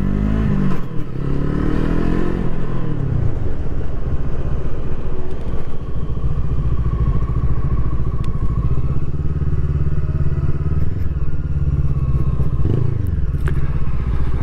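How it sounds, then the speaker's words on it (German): A Brixton Crossfire 500 X motorcycle, a Euro 5 compliant machine, runs with its engine and exhaust droning loud and close, the pitch rising and falling as it revs and accelerates, with a few thumps and clatters along the way. "Aber der Auspuff klingt trotzdem nicht schlecht"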